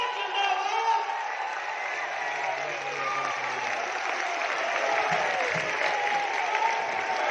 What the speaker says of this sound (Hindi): उतनी कमजोर ताली